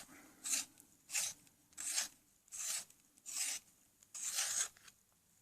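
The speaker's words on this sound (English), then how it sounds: "For the centre, I'm going to need to sharpen it." A colouring pencil is being sharpened, six rhythmic bursts of scraping, close and moderately quiet, with brief pauses between turns.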